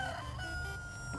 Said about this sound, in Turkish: horoz öttü